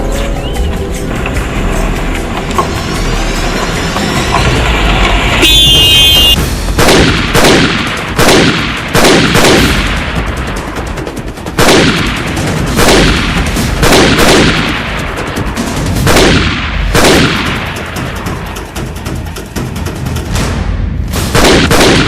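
Gunfire in a Pashto film shootout, with loud repeated bursts and single shots cracking through the whole stretch, some in rapid volleys, and no talk over it.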